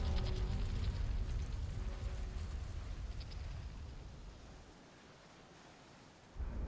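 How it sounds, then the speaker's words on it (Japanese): Steady broadband rain pours down in a video game's snowy mountain area, loud and continuous at first, then thinning and quieter before swelling again at the end, with no talk over it. "雨降っちゃった。 天気悪くなっちゃった。"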